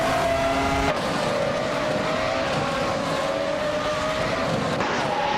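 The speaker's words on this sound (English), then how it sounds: "driving a Ferrari F310, which is known for its speed and agility" Ferrari F310 race car in a racing video game, a continuous loud high-revving engine whine with shifting pitch and a gear change, no voices.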